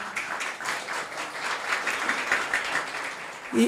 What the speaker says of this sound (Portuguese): Queria que a gente pudesse saudá-los com uma salva de palmas.